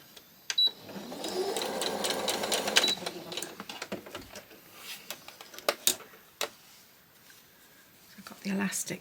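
A sewing machine stitches elastic onto scrap fabric in a steady, close whirring run for a couple of seconds, followed by scattered clicks and handling noises.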